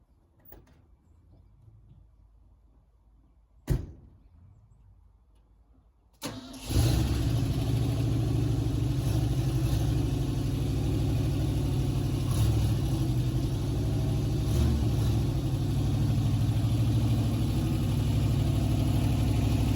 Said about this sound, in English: But first I got to move my Bronco